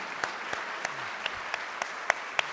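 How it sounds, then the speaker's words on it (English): A room of Rotary meeting attendees applauds in a steady wash of clapping, with sharper individual claps standing out at regular intervals and no voices over it. "How about a big round of applause for the committee that pulled this off?"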